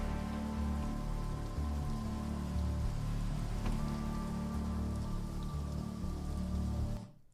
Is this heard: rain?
yes